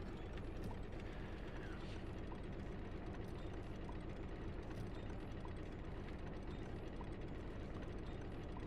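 A drill mechanism grinds and ratchets with a steady mechanical whir under a constant dense noise, with faint ticking clicks, and no one speaks.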